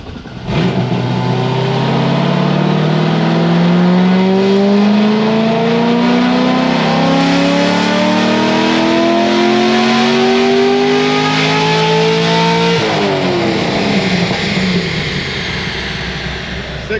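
A Corvette Z06 LS7 with stage 3 heads and cam does a cold pull on a dyno, revving in one long, loud rising sweep to the top before dropping back to a steady high roar.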